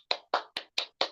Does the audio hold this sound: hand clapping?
yes